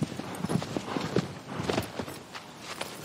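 Horse hooves clop along in a steady walking rhythm in the video game Shadow of the Colossus on PS4, moderately close, with a faint background ambience.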